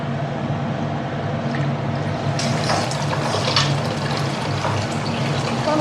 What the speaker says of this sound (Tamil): இப்படி சுடு தண்ணி ஊற்றி வைக்கணும்